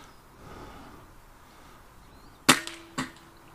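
A rifle shot rings out in an open meadow on a breezy day: one sharp crack, then a second snap half a second later, against a faint outdoor background.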